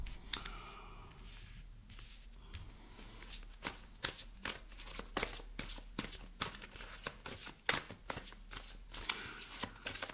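Tarot cards are shuffled and handled, giving a steady run of crisp, close riffling flicks and taps that sound alone with no talk.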